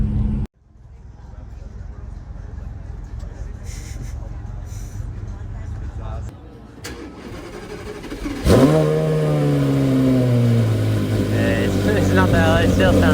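A Ferrari supercar at an RM Sotheby's Scottsdale auction idles with a low rumble, then revs sharply and holds a loud, rising engine note close by while people talk.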